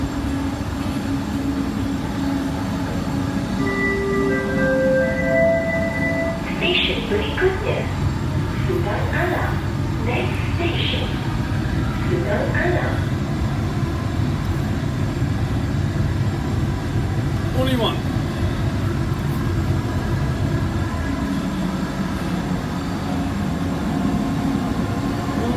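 A nearly empty subway train to Brooklyn rumbles steadily throughout, with a series of rising electronic tones and some talk early on over the constant ride noise.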